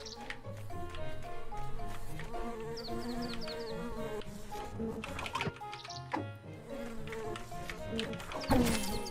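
Buzzing bees in the video game Secrets of Gindea, a busy insect drone with rising chirpy game effects and a sharp hit near the end over continuous background music.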